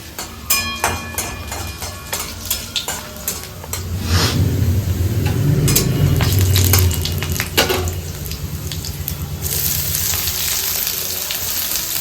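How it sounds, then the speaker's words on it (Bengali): Garlic and then onion sizzle in hot oil in a pan for ghugni, a steady frying hiss that swells louder midway, with sharp clinks of a utensil stirring against the pan and no talking. "প্রথমে রসুনটা ফোড়ন দিল তারপর একটু রসুনটা ভাজা হলে পেঁয়াজ দিয়ে দেবে"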